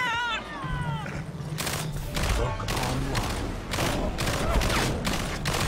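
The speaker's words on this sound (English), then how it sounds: "Okay, it's orbital bombardment." Orbital bombardment in a video game, a rapid series of explosive booms and crackling blasts layered together, loud and dense, mixed with high electronic game tones and a brief voice.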